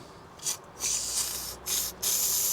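Aerosol can spraying onto a Citroen BX 16 TRS during an oil and filter service, heard as three loud, close hissing bursts separated by brief pauses, with no one talking.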